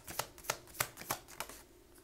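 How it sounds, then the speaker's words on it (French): Tarot cards being shuffled and drawn, giving five soft, evenly spaced flicks close by and quiet, with no talking. "Je vais en tirer une autre carte pour que ça me parle mieux."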